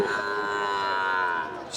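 A Sahiwal heifer lows in one long, drawn-out moo, loud and close, at a cattle market in Joypurhat, Bangladesh, with no talking over it.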